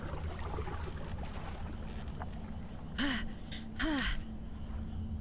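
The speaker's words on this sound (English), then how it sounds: "It's an oar hitting the surface of water." Two soft splashes about a second apart, an oar dipping into water in a video game, Spirit Hunter: NG, over a steady low rumble of ambient noise.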